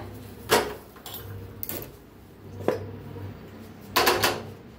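A metal kadhai (wok) is set down on a kitchen stove, giving several sharp, fairly quiet clanks spaced apart.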